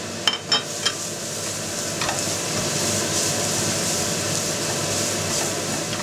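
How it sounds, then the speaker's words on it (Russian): Onions and carrots frying together in a pan, a dense continuous sizzle with a couple of sharp utensil knocks at the start, close and steady, no speech. "Еще раз все обжариваем вместе с морковочкой."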